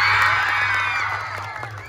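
Crowd cheering and shouting in a Philippine school event at President Rojas for a man called Sir Jero, loud and close, a dense wash of voices and whoops with a steady low hum beneath.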